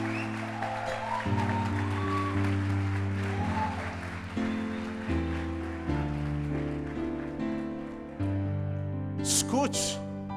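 Church congregation applauding during a sermon, the soft, wash-like clapping spread under sustained keyboard chords that change every second or so, steady throughout with a brief bright burst near the end.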